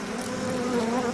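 Mosquitoes buzz in the horror game Outlast 2, a steady close insect whine holding evenly for the whole moment with no talk over it.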